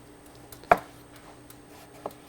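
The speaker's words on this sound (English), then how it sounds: "I'm going to make 1-inch dice or 1-inch cubes for the melon" A chef's knife cuts melon into one-inch cubes, one sharp close chop followed by a softer second cut and faint taps in a quiet kitchen.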